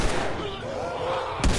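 A single gunshot in the video game The Last of Us, a short loud crack arriving at the end after a stretch of low ambient game noise.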